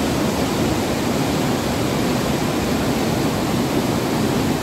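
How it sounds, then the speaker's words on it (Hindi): The flooded Sarvari river in Kullu, Himachal, rushes with a steady, dense roar of churning water, loud and unbroken throughout with no voices. "ये है सरवरी नदी का बहाव"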